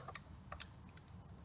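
Keys typed on a computer keyboard at a Windows command line, a few quick light clicks in a short burst, close and fairly quiet with no talking.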